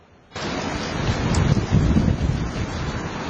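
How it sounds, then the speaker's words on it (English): Strong wind gusting up to 45 miles an hour roars steadily against the microphone, a loud, constant rushing blast with gusty swells and no voices. "Wind speeds reached up to 45 miles an hour on Wednesday"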